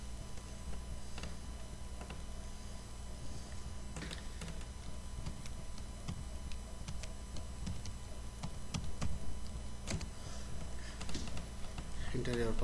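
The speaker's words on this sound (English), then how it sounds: "Enter password and click enter." Keys are tapped on a computer keyboard as a password is entered, giving scattered clicks under a steady background hum while a voice talks over them.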